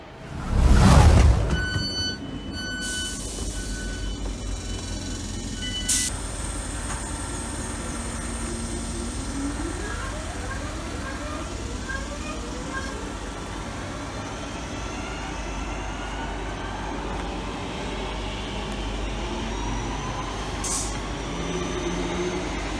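A West Midlands Trains service runs toward Duddeston, its steady rumble of wheels and carriage noise continuing throughout after a loud thump near the start, with occasional faint clicks and no talking.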